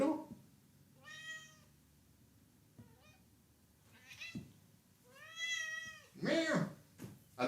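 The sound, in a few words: cat meowing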